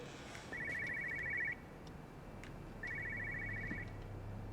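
Inside a house in Everybody's Gone to the Rapture, an electronic telephone trills in two separate ringing bursts with a pause between them. Each burst lasts about a second, faint and distant over a quiet room hum.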